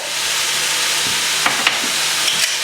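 Two pounds of ground beef with coarse kosher salt browns in a pan, giving a steady, close sizzle and hiss with a few faint stirring scrapes and clicks.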